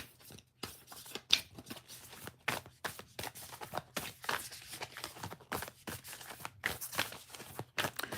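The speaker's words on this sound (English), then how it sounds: "These are nice to shuffle too, I have to say." Urban Tarot cards are shuffled steadily up close, a continuous papery riffle of slides and flicks with sharper taps in between, going on for several seconds without any speech.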